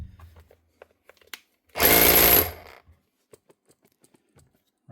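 A hammer drill under repair test bursts into a loud close whirring run of under a second, then stops, with faint taps and handling clicks before and after.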